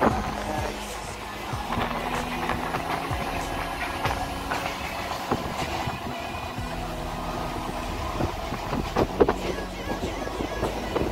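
Passenger train running between Patna and Zamania, a continuous rolling rumble with rhythmic clacks and rattles heard from inside a carriage, with some voices in the background.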